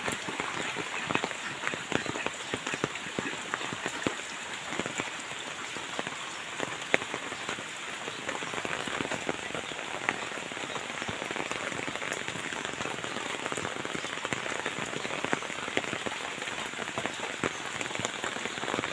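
Steady heavy rain falls on a flooded yard beside a house after two days of downpour, a dense, even hiss of drops hitting water that carries on without a break and with no voices.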